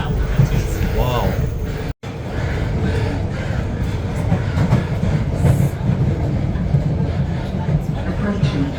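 Metro Rail commuter train running on the upgraded Pretoria to Pienaarspoort line, a continuous rumbling roll with clickety-clack of wheels on the tracks heard from inside the carriage, steady and fairly loud, with a brief dropout.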